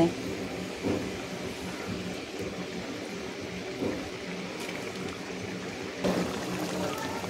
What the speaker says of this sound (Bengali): এরপর এখানে আমি এক এক করে সমস্ত মাছগুলো দিয়ে দেব।